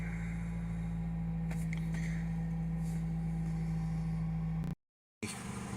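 A 2000 Toyota Celica GTS engine holding a high idle just under 2,000 RPM, a steady low hum with a constant tone, faint and alone, cut by a brief dropout near the end.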